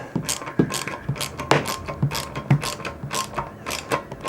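A ratchet tool clicks in rapid, evenly repeated bursts while tightening a fitting on a WG K-7000, close and crisp with a steady working rhythm.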